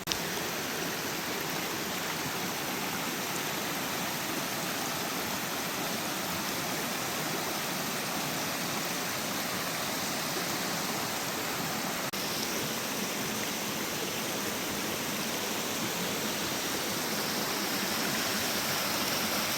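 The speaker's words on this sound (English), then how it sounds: "little waterfall, lots of beautiful cascades. It's flowing quite well" Peters Falls, a small waterfall with cascades and rapids, flowing steadily in a dense, continuous rushing roar that stays even and close throughout.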